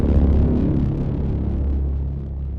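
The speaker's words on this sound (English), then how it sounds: "And immediately we have that punchy transient out of the sound." A synthesized drone run through the Traveler effect with shift moved left and damping and stereo at zero, giving a punchy attack up front before a steady, heavy low rumble continues alone at fairly high level.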